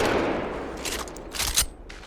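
R301 assault rifle from Apex Legends firing with no scope, a sustained burst of rapid gunfire that continues for about two seconds and then tapers into a few louder, separate bangs.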